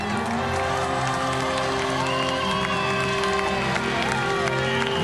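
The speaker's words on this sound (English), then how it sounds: "Cadel Evans salutes the crowd on the Champs-Élysées" Large crowd cheering and applauding along the Champs-Élysées at the Tour de France finish, a loud, continuous roar with whoops and shouts throughout.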